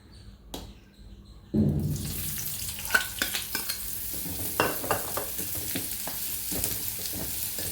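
Sliced onions drop into a hot pan and start sizzling loudly, then come repeated close scraping stirs over a steady frying hiss.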